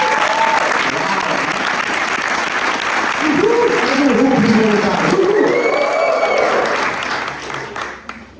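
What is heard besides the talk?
church audience applause for the volunteers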